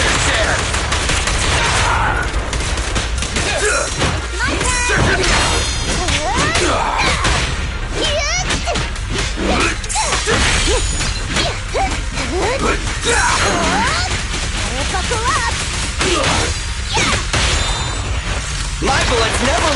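Rapid gunfire in the video game Zenless Zone Zero rattles in dense, continuous bursts mixed with crashes, impacts and whooshes, loud and busy throughout, with character voices speaking over the combat.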